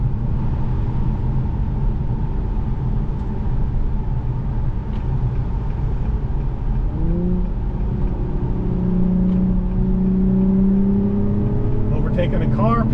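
A 2023 Acura TLX Type S pulls up to highway speed. The engine drone sits under steady road and wind noise, and its pitch climbs clearly in the second half as the car accelerates.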